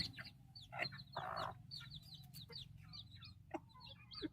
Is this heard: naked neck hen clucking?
yes